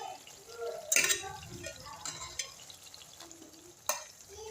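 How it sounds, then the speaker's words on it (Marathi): Fish pieces go into a pan of frying masala with a couple of sharp clattering drops, followed by quiet sizzling and light stirring at close range. "मासे ॲड करणार आहोत।"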